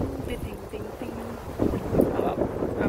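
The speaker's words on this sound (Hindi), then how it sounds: "आप लोग आवाज सुन सकते हैं कितनी तेज हवा चल रही है।" Strong, cold wind gusts outdoors at dusk, a steady broadband rush that swells louder in the second half, with someone speaking over it.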